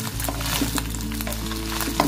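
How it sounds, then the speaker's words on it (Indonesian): Chicken pieces fry in a generous amount of hot oil, giving a steady, close sizzle and crackle with a few brighter pops, continuous throughout with no talking. "Kita tuangin minyak ya, agak banyak untuk menggoreng ayamnya."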